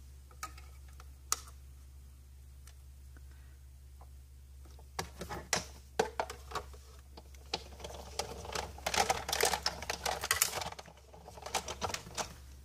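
A die-cutting machine pushes a window sheet through with a Big Bold Framelits die for a handmade card: scattered clicks at first, then a busier run of ticking and crunching over a constant low hum.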